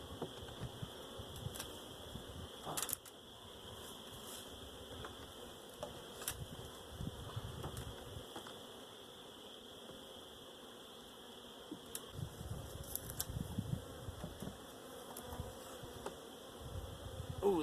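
Honeybees buzz in a steady, faint drone around an open single hive in a shaded corner, with a few soft knocks and handling clicks scattered through.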